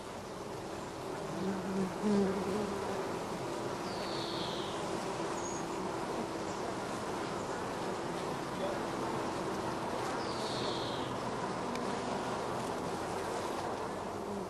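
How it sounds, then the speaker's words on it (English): Honey bees confined in a swarm box with a screened floor hum as a dense, steady buzzing drone, close and continuous throughout. "we brush the young bees off several frames of brood"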